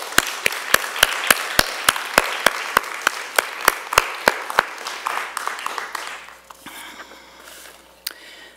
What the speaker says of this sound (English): Let's give a warm round of applause for the tremendous legacy of Yolanda Lopez.